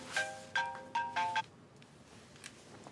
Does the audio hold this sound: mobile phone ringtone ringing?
yes